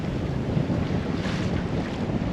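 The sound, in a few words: sailboat sailing close-hauled in wind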